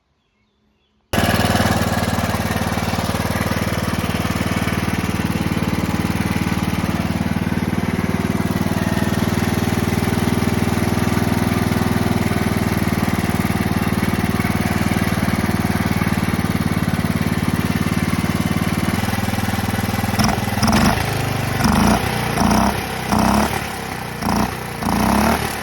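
A small tractor engine with a leaky carburetor runs steadily and loudly close by, a continuous mid-pitched drone that starts abruptly after a second of silence and turns choppy and uneven near the end.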